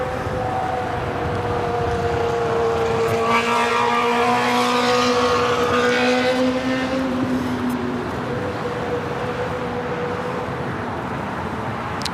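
A four-year-old United Boeing 787-9 Dreamliner at LAX, bound for Newark, gives off a steady, loud jet-engine roar with a rising turbine whine. It runs continuously throughout with no voices.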